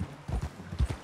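Horse hooves in Red Dead Redemption 2, a close, loud clip-clop of several quick hoofbeats falling in uneven pairs, with no voices over them.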